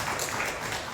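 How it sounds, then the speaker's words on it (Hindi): A small audience at a Hindi poetry gathering applauds, a brief, dense burst of steady clapping lasting about a second. "उनके लिए जोरदार तालियां।"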